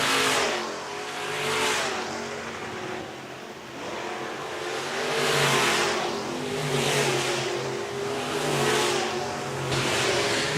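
Sportmod and RaceSaver sprint cars racing on a dirt speedway, engines roaring and revving in repeated surging waves as cars sweep past one after another, loud and continuous, without speech.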